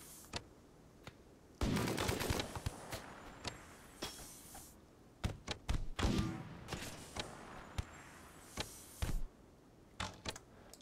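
Gunfire in Rimworld as a tribe defends its colony against a raid: scattered sharp shots and short bursts, some in quick rapid clusters, over quiet gaps, fairly faint with no talking.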